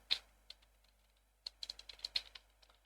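Close, quiet computer keyboard and mouse clicks while playing DarkOrbit, first a few isolated taps and then a denser cluster of rapid clicks.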